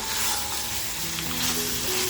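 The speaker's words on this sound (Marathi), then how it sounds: "मटणाचा कलर चेंज होईपर्यंत अगदी छान असं हे फ्राय करत राहायचे" Mutton for kharda fries in a pan with a dense, continuous sizzle that holds steady and fairly loud throughout.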